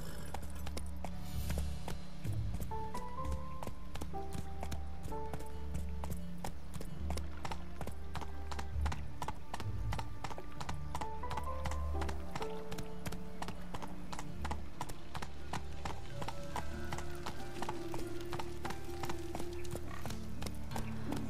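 Horse hooves clip-clop steadily throughout in The Witcher 3, the rhythmic galloping beat running the whole length over a continuous game music bed, with no talk.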